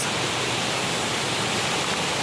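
A waterfall pours in a steady, dense broadband rush of water that stays constant and fairly loud throughout, with no voices.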